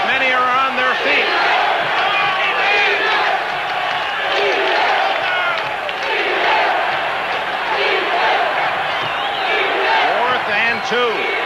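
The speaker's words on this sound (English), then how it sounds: "Listen to this crowd as many are on their feet." Large football stadium crowd at a 1984 Raiders at Chiefs game roars and cheers loudly and steadily, many fans on their feet, a dense sustained swell with shouts rising and falling throughout.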